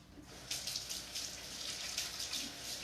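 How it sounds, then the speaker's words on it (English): Water running from a kitchen tap during handwashing before cooking, a soft steady hiss and splash with faint rhythmic surges as hands move under the stream. "I'm gonna wash my hands"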